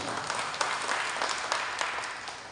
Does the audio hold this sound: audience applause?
yes